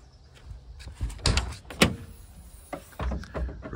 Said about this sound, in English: It's a sliding curbside door.